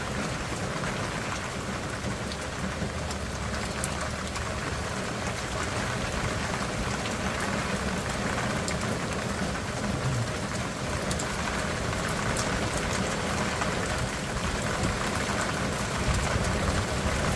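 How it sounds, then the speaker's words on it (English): Heavy rain pours down on the Lower Laguna Madre during a fishing trip, a dense, steady hiss, loud and unbroken throughout, with a faint low engine rumble underneath. "It's raining big time."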